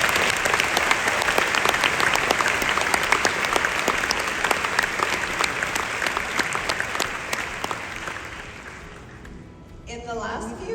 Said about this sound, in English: Let's have a round of applause acknowledging that we are here and for the amazing support system that helped us get here.